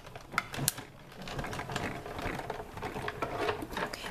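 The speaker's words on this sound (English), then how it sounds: "Let's get the big shot and do some die cutting." A Big Shot die-cutting machine is cranked to feed paper through, giving close ratcheting and clicking mechanical sounds with a few sharp knocks, fairly loud and without talking.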